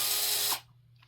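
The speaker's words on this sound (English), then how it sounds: "This is one of my favorite drills. I use it all the time for electrical." A corded electric drill used for installing a 120V Cadet wall heater whirs loudly at high speed up close, then cuts off abruptly about halfway through, leaving a low hum.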